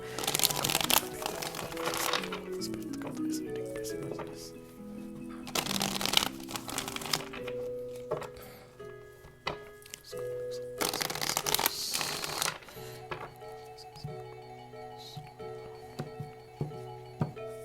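Tarot cards are shuffled in repeated riffling bursts, crisp and close, over soft background music with sustained tones and no talking.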